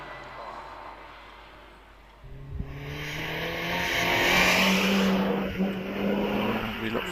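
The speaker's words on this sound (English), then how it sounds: "And John, very lively run up the hill then in his MX-5" A Mazda MX-5 in standard trim races up the Prescott hill climb, its engine rising from a distant hum to a loud, sustained drone as it nears and passes.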